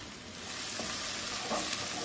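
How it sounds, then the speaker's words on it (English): Parsi dhanajiru masala being stirred and roasted in a pan, a steady close sizzle with soft scraping strokes of a spoon running throughout, no voices. "Mix it well, roast the masala a little bit, not too much, don't burn it."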